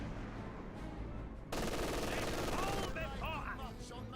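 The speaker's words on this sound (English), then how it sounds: "Another strafing run there." Rapid aircraft strafing gunfire in the World War II strategy game Company of Heroes 2, a dense sustained burst of machine-gun fire over a loud battle backdrop, intensifying midway, with a voice faintly present.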